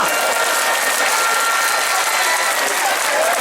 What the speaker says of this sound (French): Applaudissez-moi cet agent.